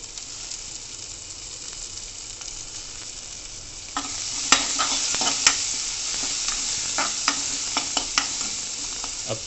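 Chopped onion sizzles in a pan for an Indian-style gravy, a steady frying hiss that jumps louder midway as the onion goes in, with scattered crackles and stirring scrapes; no one speaks.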